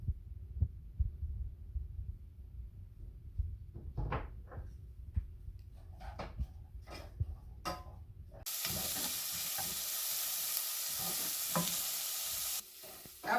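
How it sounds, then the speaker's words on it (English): Onion and garlic cooking in a pan for a chickpea and potato curry: quiet scraping and clinks of stirring, then a sudden steady sizzle that lasts several seconds before cutting off. "we're going to add our onion and our garlic. We're going to cook these until soft"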